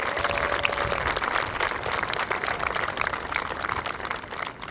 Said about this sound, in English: So a big round of applause for everyone here today.